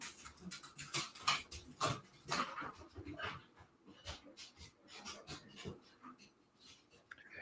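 A dog whimpers and pants close by in a quiet room, with soft whines and short yips scattered through, plus a few faint clicks and some light movement.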